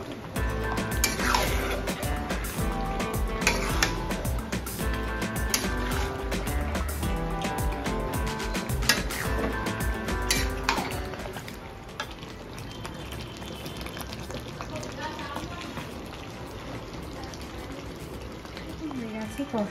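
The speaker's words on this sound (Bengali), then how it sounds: "মাংস এখন কষানো চলছে এদিকে।" Meat braising in a pan, a busy bubbling sizzle with stirring and scraping, close and steady, easing to a quieter simmer, while people talk over it in a home kitchen.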